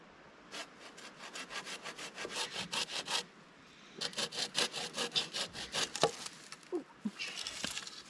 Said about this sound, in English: sawing this off so that no one else punctures a tire on this tree